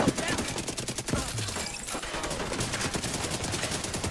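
A deployed turret in The Division 2 fires rapid automatic bursts, dense crackling gunfire running almost continuously at moderate level amid other battle noise.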